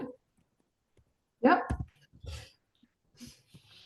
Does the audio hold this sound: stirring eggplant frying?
no